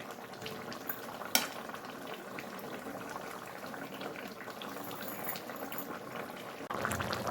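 Fish curry simmers in a pan, giving a steady close bubbling and sizzling hiss with small pops that runs unbroken, then grows a little louder near the end.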